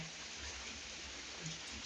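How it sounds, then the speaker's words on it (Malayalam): Steady, dense hiss of heavy rain pouring down, a constant wash of noise with no voices. "നല്ല മഴയാണ് ഇവിടെ ഇന്നലെ തുടങ്ങിയ മഴ"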